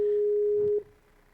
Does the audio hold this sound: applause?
no